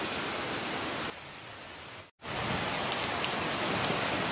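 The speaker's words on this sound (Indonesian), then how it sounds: "Dan inilah hujan yang turun di sore hari tadi." Afternoon rain pours as a dense, steady hiss of drops on surfaces, loud and close, dipping briefly quieter midway before resuming at full strength.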